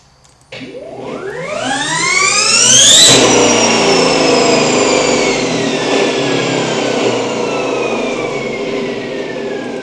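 An electric-motor vehicle on a controller with field weakening and an encoder, accelerating hard under throttle: a rising electric whine sweeps steeply upward over a few seconds, peaks, then the pitch slowly falls as throttle eases, loud and close.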